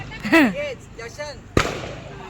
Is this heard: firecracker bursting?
yes